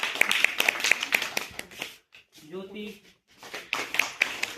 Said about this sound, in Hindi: तालियां बजाओ ठीक से